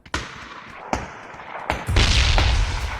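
Explosions in the Ring of Elysium shooter game: several sharp blasts and thuds, then a heavier rumbling grenade burst that lingers, close and loud.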